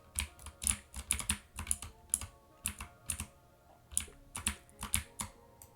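Mechanical computer keyboard typed in quick bursts of crisp, clacky keystrokes, close and fairly quiet, with short pauses between flurries and no talking.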